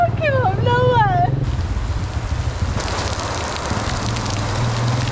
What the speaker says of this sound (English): It is starting to rain, and it's starting to rain quite heavily, and the rain is very cold.